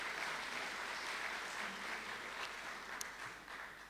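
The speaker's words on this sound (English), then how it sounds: "I think that the acting VP, Rachel Kaberman, and her team deserve applaud, and of course, all our supporters" An audience applauds at a university president's report, a steady wash of many hands clapping at moderate, slightly distant loudness.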